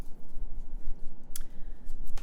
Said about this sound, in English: okay, I'm shuffling